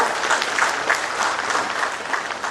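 Lively applause from an audience at a ceremony in Ranchi for an agreement between the Jharkhand government and SBI, continuous and fairly loud, a close crowd of clapping hands with no voices.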